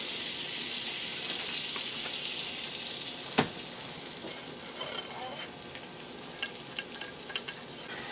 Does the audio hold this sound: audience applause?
no